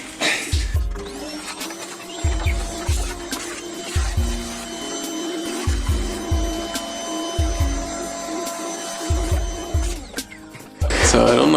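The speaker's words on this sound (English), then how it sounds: "now I did grab a vacuum cleaner" A vacuum cleaner drones steadily while cleaning an Elka Concorde 802 organ's dirty circuit board, with repeated low rhythmic thumps pulsing through the whine and a louder surge at the end.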